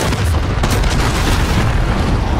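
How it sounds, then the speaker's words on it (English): A video game explosion booms loudly, a heavy blast with rumbling low-end that fills the whole moment at sustained high level, with no voices. "Oh my god, explosion!"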